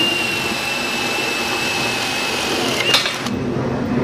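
A cordless drill with a half-inch spade bit bores through a 2x4 with a loud, steady motor whine that rises briefly before tapering as the bit finishes.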